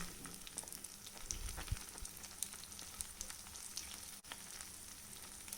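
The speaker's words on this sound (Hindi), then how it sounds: "तेल को गरम करने के बाद उसको हम बिल्कुल लो फ्लेम पे सेकेंगे" Cutlets made from leftover rice and rice flour shallow-fry in oil over a very low flame, giving a soft, steady, quiet sizzle with faint crackles and an occasional light scrape, with no talking.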